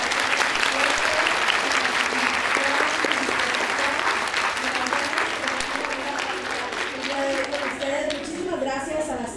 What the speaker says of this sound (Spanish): Vamos a despedirlas con un aplauso fuertísimo.